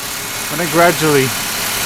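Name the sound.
2001 Ford Mustang 3.8 engine misfiring under sudden throttle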